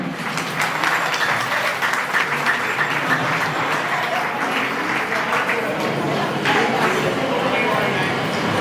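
Audience clapping at a state-wise cultural program, a dense, steady wash of many hands that continues without a break and stays fairly close and loud throughout, with crowd noise mixed in.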